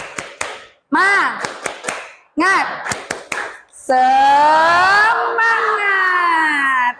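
A group of schoolchildren claps a rhythmic spirit clap in quick sharp bursts, with clapping patterns broken by shouted chanting from the class. The sound is near and loud and ends in a sustained group shout.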